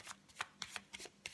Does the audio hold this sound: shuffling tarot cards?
yes